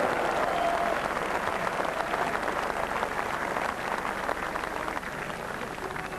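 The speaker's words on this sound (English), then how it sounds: "Big cheers from the crowd." Crowd at the 1985 Waterloo semi-finals and final breaks into loud, sustained cheering and applause, a dense steady roar that holds for several seconds and fades slightly toward the end.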